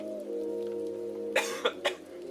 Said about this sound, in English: Oh, here come the coughs.